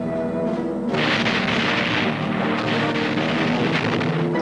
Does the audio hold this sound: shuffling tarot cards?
no